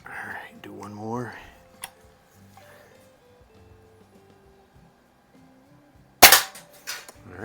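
An antique Quackenbush #4 air rifle fires with a single sharp, loud crack near the end, after quiet handling noises and a brief tick earlier, with a person speaking at the start.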